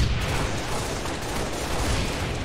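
Dense gunfire and explosions from a multiplayer match in Halo: The Master Chief Collection, a loud, continuous barrage of overlapping shots and booms with no pause.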